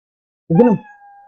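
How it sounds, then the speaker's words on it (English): A single short, bright meow, a synthetic cartoon-style cat sound effect from Scratch programming, with a sustained tonal tail, close and clear against silence. "start meow sound"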